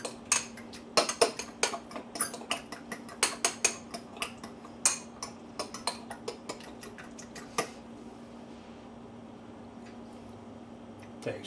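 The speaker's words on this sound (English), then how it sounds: "Stir that all together." A utensil stirring pizza sauce seasoned with a touch of Tabasco in a home kitchen, making irregular clinking and scraping taps against the bowl, close and fairly quiet, thinning out toward the end.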